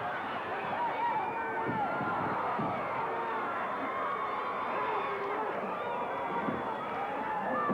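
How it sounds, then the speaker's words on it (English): A wrestling crowd at a Randy Savage match roars continuously in a dense, sustained wall of cheering and shouting, loud and unbroken throughout. "This crowd is going wild."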